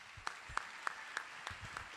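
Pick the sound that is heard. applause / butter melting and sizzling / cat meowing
applause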